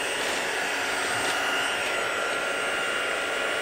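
A heat tool blowing hot air over scrapbook paper, a steady loud whooshing roar that holds unbroken throughout with no talk.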